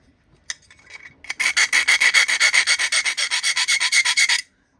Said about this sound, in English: I'm gonna file this edge just a little bit